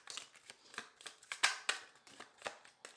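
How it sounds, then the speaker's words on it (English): Tarot deck being shuffled by hand, a quiet close series of about a dozen crisp riffling snaps and card slaps in an irregular rhythm, with no talk. "Okay, one more shuffle."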